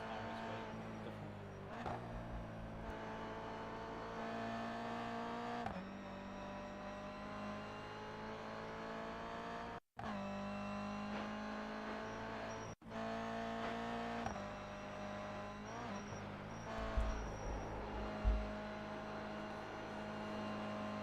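Toyota GR86 engine in a Nürburgring racing video game, revving and shifting through gears over about twenty seconds, with brief cuts and a steady, close engine whine.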